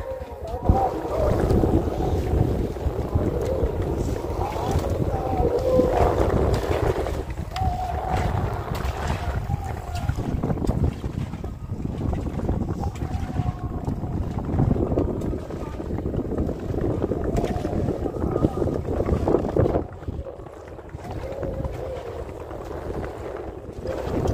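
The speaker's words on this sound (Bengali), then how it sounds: "সেই ঝোড়ো হাওয়া আর সেই সাথে ঢেউ শুরু হচ্ছে" Gusty wind roars across an open microphone over the churn of choppy river water in the Sundarbans, steady and loud throughout with a brief lull near the end.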